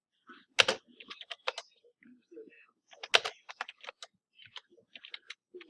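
Quick clicks of a computer keyboard while entering console configuration commands, irregular bursts of keystrokes with short pauses, close and fairly quiet, no talking.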